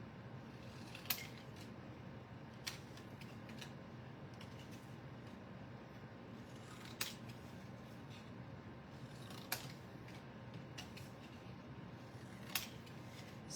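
Scissors cutting cardstock paper for Easter cards, a few sharp, crisp snips spaced apart over a quiet, faint room hum.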